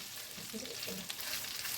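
Steady, close frying hiss of minced meat in melted butter in a hot pan, a constant sizzle with faint stirring scrapes and a low murmur underneath.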